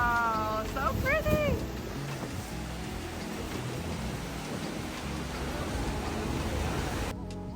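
A Maid of the Mist tour boat at Niagara Falls, engine rumble and wind over open water, a steady loud wash with brief voices near the start.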